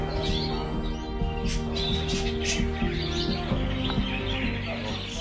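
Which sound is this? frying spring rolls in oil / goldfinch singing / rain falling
goldfinch singing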